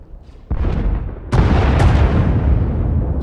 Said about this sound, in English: Sounds like the bombing's getting closer.